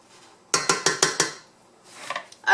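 A metal lid clattering onto a pot of crabs with squash and green beans in coconut sauce: five quick rattling clanks in a row, then softer scraping and a final clink, close up.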